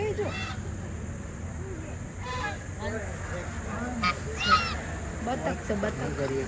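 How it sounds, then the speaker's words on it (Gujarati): Ducks call in scattered bursts of nasal honks and quacks, several overlapping, set against a soft background murmur. "હા, બતક છે, હંસ નથી."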